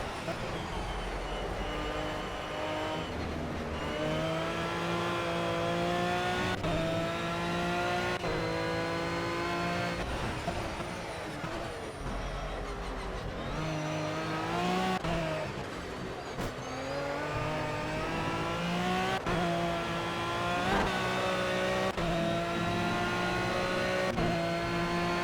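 Aston Martin V12 Vantage GT3 racing around the Silverstone GP circuit in a racing game. Its engine roars loud and continuous throughout, pitch climbing and dropping with repeated gear shifts and rev swells.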